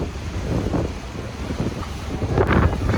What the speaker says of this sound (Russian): ветер сейчас вот в море открытом просто страшнючий, сносит